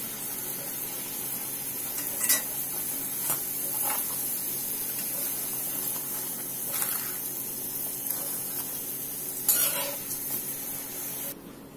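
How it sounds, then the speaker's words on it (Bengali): Luchi frying in oil, a close continuous hiss and spray-like sizzle with a few brief louder crackles and clinks. "এই তো লুচিগুলো সব ভাজা হয়ে গেছে, মানে ফ্রাই করা হয়ে গেছে"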